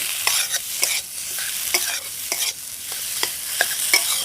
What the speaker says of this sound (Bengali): এবার আলুটাকে মশলার সাথে খুব ভালোভাবে কষিয়ে নেব